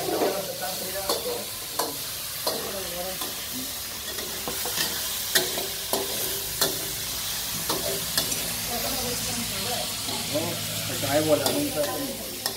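Pad thai frying in a pan in Chiang Mai, Thailand, with a steady sizzle and repeated scraping, clattering stirs of a utensil, close, while people talk briefly in the background.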